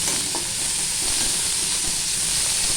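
Onions frying in a pan for a homemade pizza topping give a loud, constant close-up sizzle with a steady hiss and a few faint stirring knocks, no voices.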